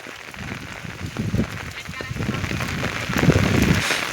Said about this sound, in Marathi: पाऊस जोरात व्हायला लागलाय